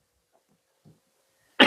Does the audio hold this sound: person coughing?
yes